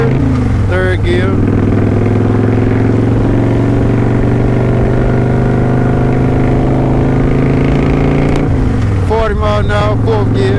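A motorcycle engine revs on a freeway, dropping as the rider shifts into third gear and then pulling steadily under constant road and wind noise before rising again.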